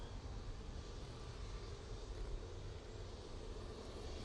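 An EasyJet airliner in Neo livery departs Manchester Airport for Lisbon, its jet engines a faint, distant, steady roar.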